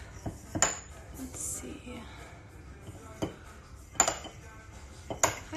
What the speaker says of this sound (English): So you see, as you start stirring, it keeps melting.